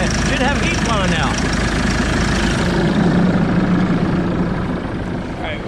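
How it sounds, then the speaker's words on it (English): Farm tractors idling while they warm up: a steady, loud, low engine drone throughout, with some indistinct voice sound in the background. "while I'm letting the tractors warm up"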